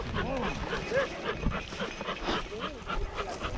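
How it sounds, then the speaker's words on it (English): A hunting dog on a bird hunt at a game preserve gives several short whines and yips over outdoor rustling, fairly faint, with people talking nearby. "she's a good dog"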